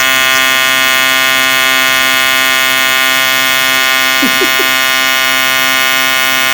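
A TIG welder arc welding aluminum gives a steady electric buzzing hum that holds at a constant level throughout, close and loud, with a brief faint chirp near the end.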